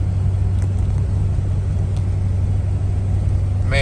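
A Ford truck engine, freshly repaired idle air control valve and throttle body, runs smoothly with a steady, even low rumble and hum that holds constant throughout, close and fairly loud.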